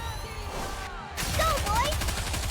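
Gunfire in the mobile shooter Nikke: Goddess of Victory, a dense rattle of rapid shots that breaks off briefly and then resumes louder under a busy game soundtrack, with voices over it.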